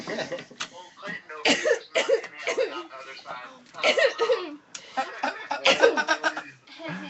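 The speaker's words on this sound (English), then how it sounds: "Can you hear my cough?" Several coughs and throat-clearing bursts mixed with chuckling and close-up talking voices.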